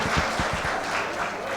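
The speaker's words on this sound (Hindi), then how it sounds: "आपको अच्छा लग रहा है तो एक बार ताली बजाकर महसूस करा दीजिएगा मुझे" Audience at a Hindi-Urdu mushaira poetry recital gives a short burst of applause, a dense wash of clapping with a few sharper claps near the start, steady and moderately loud throughout.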